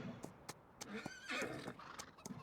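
A horse in the Farming Simulator 19 video game gives a clear whinny in the middle, framed by a few sharp hoof clops, all fairly quiet and with no talk.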